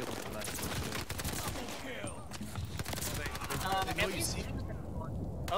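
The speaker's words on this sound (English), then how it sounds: "Shotgun goes." A shotgun in a Call of Duty Vanguard Search and Destroy match fires in quick, sharp blasts, several shots cracking close over busy battle noise.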